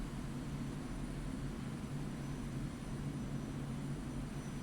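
An Su-25T jet in the DCS World flight game, flying in the Caucasus, gives off a constant, faint engine drone with a low hum under it. The sound is steady and unbroken, with no talk over it.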